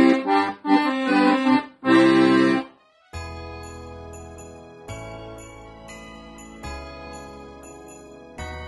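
An accordion plays a melody with one hand and chords with the other, opening with a few loud full chords, then settling into a soft, sustained tune over steady bass notes.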